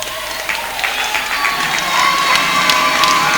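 A church crowd applauds and cheers in a steady, dense wash of clapping, with scattered shouts rising over it and growing slightly louder toward the end.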